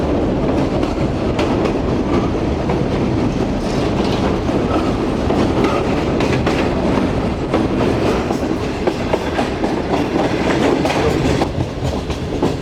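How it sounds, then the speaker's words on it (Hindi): The Shalimar Express train rolls steadily along the rails past a junction in Pakistan, loud and close, with a continuous rumble and rhythmic clatter of wheels throughout, no voices. "चादराबाग जंक्शन से ट्रेन हमारी इस वक्त गुजर रही है"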